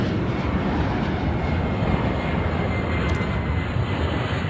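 An airplane taking off in the Airport Madness video game, a loud, steady broadband engine roar that holds without letup and has no voices over it.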